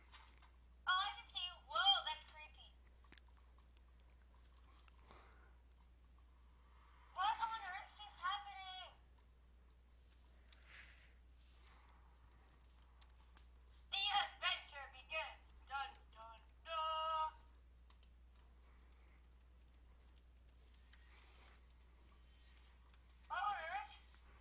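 Someone types on a computer keyboard while playing Minecraft, with scattered bursts of fast clicking keys spread across long quiet stretches, close and clear.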